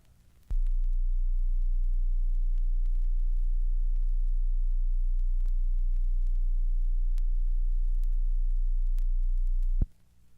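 A single low, steady 30-cycle test tone from a 1960 stereo test record hums continuously for about nine seconds, starting and stopping abruptly over faint background crackle.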